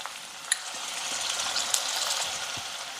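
Cumin, green chillies and onion frying in hot oil in a pan, giving a steady, moderate sizzle with a few sharp crackles and no voices.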